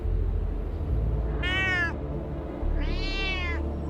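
Two drawn-out cat meows, close and clear, separated by a short pause, over a low steady hum.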